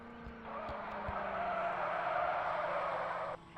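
Tires squeal in a sustained skid as a car is spun in circles in a video game, with a steady engine tone underneath and a few short clicks.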